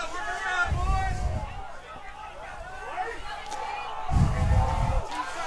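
Crowd noise in the stands at a men's lacrosse game against DeSales, a broad murmur with swells of cheering beneath a commentator's play-by-play.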